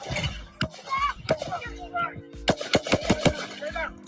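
Gunfire at a political rally rings out as several sharp cracks and pops scattered among shouting, frantic voices, with a steady tone droning beneath the chaos.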